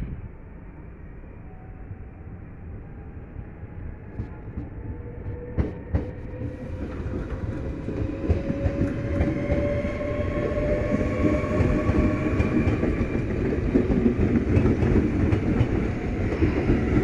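A train pulls out of a station, its electric drive rising in a climbing whine as it accelerates, with steady rumbling and rail noise building and staying loud throughout.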